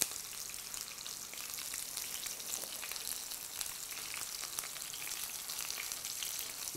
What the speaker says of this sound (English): You'll see how quickly these will brown and cook.